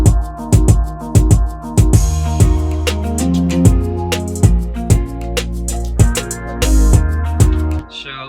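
UK afrobeat drum loop with bouncy percussion and a very simple kick pattern, punchy and loud, repeating in a steady groove with sharp transient hits throughout and a short sweep near the end.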